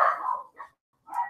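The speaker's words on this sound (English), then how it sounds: "My dogs are barking, sorry." A dog barks indoors: a sharp bark, a shorter yip, a pause, then another bark, fairly close and moderately loud with no talk over it.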